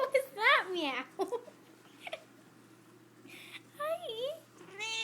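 A cat lets out a series of clear, close meows with rising and falling pitch, some short and some drawn out, separated by quiet pauses, while a person's voice is heard around them.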